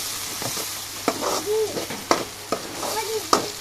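Red poa sea fish cooked down in a mustard paste masala, stirred in a pan with a steady sizzle and sharp spatula scrapes every second or so, up close with no talking.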